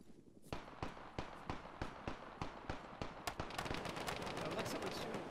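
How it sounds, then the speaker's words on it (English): Pistol gunshots in a military video game, a run of sharp evenly spaced cracks at moderate distance that speeds into a dense rapid volley toward the end. "someone shooting with a fucking pistol over there"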